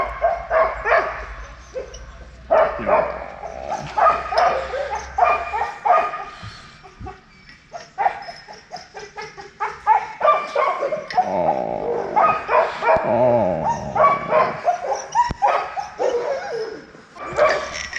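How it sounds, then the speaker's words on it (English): Several puppies at a sled dog kennel at Chena Hot Springs barking, yipping and whimpering in excited, irregular bursts close by, with a few soft spoken words mixed in. "look at all the beautiful puppies"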